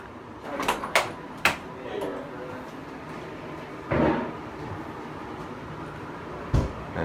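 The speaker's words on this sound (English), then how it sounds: "Got a sliding door for a door." A hotel room's sliding door rattles and rolls along its track, with several sharp knocks early on and a longer scraping slide in the middle, close by over room noise.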